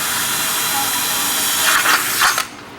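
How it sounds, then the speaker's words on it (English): A power drill bores through a wooden hang block in a steady, hissing whir that swells in a few louder bursts near the end before cutting off abruptly, heard close up. "then we'll go ahead and drill through."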